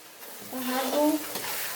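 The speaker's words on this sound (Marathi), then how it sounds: "आता हे मसाले फार परतत बसायचे नाही. कढीपत्ता टाकून घ्यायचा" Spices, curry leaves and green chillies sizzle briefly in hot oil for thin poha chivda, with a stirring scrape and a short voice over the frying.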